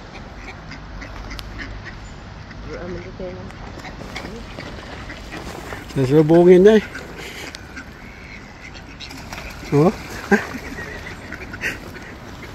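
Ducks quack in short, nasal bursts, a cluster midway and a couple more later, while people talk quietly over outdoor ambience.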